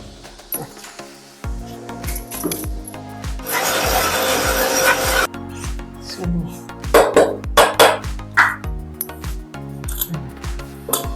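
A mixer grinder whirs loudly for a couple of seconds as it grinds pounded jaggery powder for a traditional Rayalaseema karjikayalu sweet filling. The grinding comes between lighter clattering and scraping, all over steady rhythmic background music.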